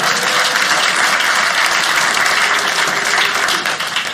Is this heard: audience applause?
yes